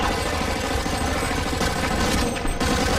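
Continuous rapid submachine gun fire in a first-person video game, a dense unbroken burst of shots that stays loud and close throughout, with no talking.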